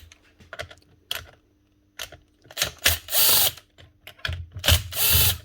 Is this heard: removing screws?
yes